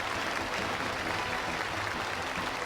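Combatants in a square in Pyongyang applaud enthusiastically at a flag-presentation ceremony, a dense, steady roar of clapping that holds at an even loudness without pause.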